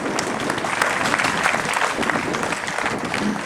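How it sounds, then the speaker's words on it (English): A crowd at an evening devotional programme in Montrose gives a big round of applause. The clapping is dense and continuous, holding at an even loudness for the whole stretch. "giving a big round of applause"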